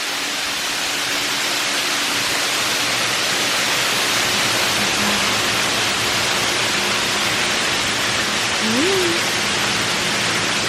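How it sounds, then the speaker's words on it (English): A waterfall behind a ceremony arch at Calamigos Ranch wedding venue in Malibu, California, pours in a constant, close, full roar of rushing water that never lets up. "under this arch and with this beautiful waterfall in the back"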